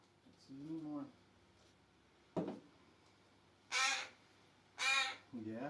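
An injured baby crow in rehab care gives a few loud, harsh caws in separate bursts, with quieter murmured handling sounds between them.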